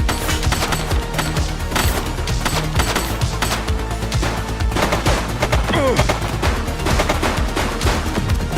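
Sustained automatic gunfire in The Precinct, a police video game shootout with a suspect firing: rapid, loud, continuous volleys of shots crackling steadily throughout, with no pause.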